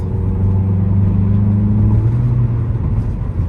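A 2003 Ford Focus SVT engine pulls hard from inside the car, its steady droning rev climbing and then dropping as a gear change comes near the end.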